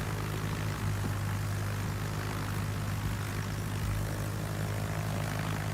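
Dive bomber aircraft engines drone in carrier-based video game combat, a continuous propeller hum with a low, steady pitch that stays loud and unbroken throughout, with no talking.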